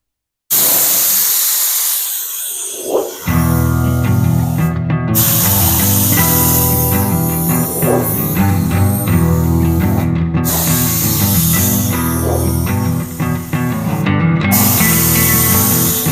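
Steady, loud hiss of a spray gun laying the final paint coat on a car's driver side, running almost continuously with a few short pauses between passes.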